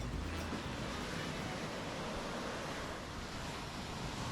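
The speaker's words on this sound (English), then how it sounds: "The soothing sound of gently lapping waves" Gentle waves lap on a Caribbean beach in Tobago, a steady, broad wash of surf with some wind rumble, continuous and fairly close, with no voices.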